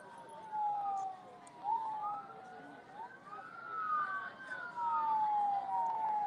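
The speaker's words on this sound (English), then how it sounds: "now we got some sirens again" Police sirens wail along a street in Washington D.C., a wavering rising-and-falling tone from a moderately distant vehicle, steady and continuous over low street rumble.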